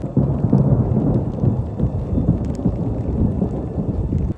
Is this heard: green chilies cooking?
no